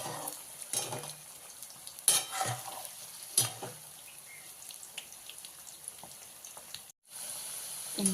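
Potatoes fry in a pan until coloured, making a soft, steady sizzle with a few clattering stirs near the start and a brief cut to silence near the end. No one speaks.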